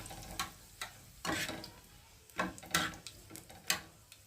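Small pieces of dried red chilli are added to oil in which cumin has already darkened. A spoon scrapes and taps the pan in irregular strokes over a soft frying sizzle, fairly quiet and close.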